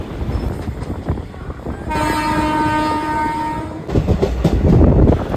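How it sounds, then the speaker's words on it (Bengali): The Howrah–Sahibganj intercity express runs fast on the main line at around 110 km/h, its steady rumble joined midway by a long, loud horn blast before the rhythmic rolling noise returns. "আর আমাদের ট্রেন কিন্তু এখন প্রবেশ করে গেল মেন লাইনে।"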